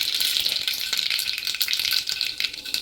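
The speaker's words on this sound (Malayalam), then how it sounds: "കടുകിട്ട് കൊടുക്കാം." Mustard seeds spluttering in hot oil while tempering for sambar: a dense, steady crackling and popping that runs nearby through the whole moment, with no voices.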